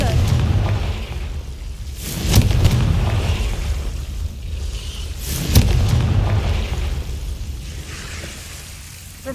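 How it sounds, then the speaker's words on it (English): Repeated booming blasts of the Confringo explosion spell in a Harry Potter video game, two or three heavy bursts rising over a low rumbling ambience with loud, broad impacts spaced a few seconds apart. "Confringo!"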